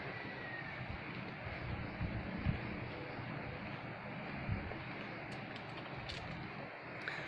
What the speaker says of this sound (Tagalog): kung naririnig ninyo yung dagundong ng tubig